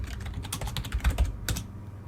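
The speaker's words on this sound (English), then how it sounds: "Type in your password." Password being typed on a computer keyboard during a Linux software install, a quick close run of crisp key clicks with a few heavier taps, alone with no talking.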